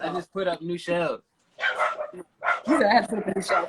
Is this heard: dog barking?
yes